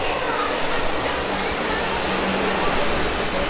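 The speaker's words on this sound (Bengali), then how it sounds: "অ্যাকচুয়ালি এই মেট্রোতেই আমরা চলে যাবো এসপ্লানেট" Kolkata underground metro train running through its tunnel, a steady loud rumble and rushing roar with faint rail clatter, continuous throughout, while people talk over it.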